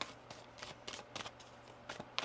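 Tarot cards shuffled by hand, a quick series of soft riffling bursts and papery flicks close up, uneven in rhythm, with no talking over it.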